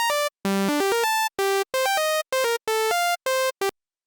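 Serum synthesizer pluck, a bright buzzy raw waveform played as a short melodic run of separate notes with silent gaps between them, each note starting sharply and cutting off, close and prominent.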